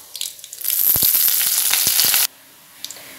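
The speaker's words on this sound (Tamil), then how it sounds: "இதோட கருவேப்பிலை ஆட் பண்ணிக்கலாம்." Curry leaves drop into hot oil and burst into a loud, crackling sizzle with sharp pops, lasting a second and a half before cutting off abruptly, with faint clatter on either side.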